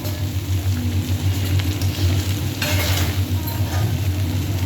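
Steady close sizzle of fried rice with paneer frying in a pan, with continuous scraping and stirring strokes running throughout and no talk.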